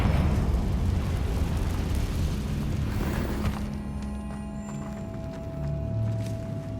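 A Confringo blasting curse from Hogwarts Legacy erupts into a loud, rumbling explosion that holds steady for several seconds, then shifts midway into a lighter, crackling tail with lingering low tones.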